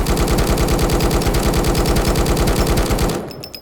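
An M4 rifle fires in the survival shooter Road to Vostok, a loud, close, rapid automatic burst of evenly spaced shots lasting about three seconds before cutting off.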